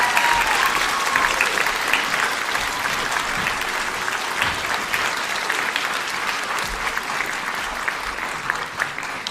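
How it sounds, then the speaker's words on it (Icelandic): An audience at a civil confirmation ceremony applauds a singer, dense sustained clapping at even loudness throughout with no voices over it. "Gefum honum gott klapp."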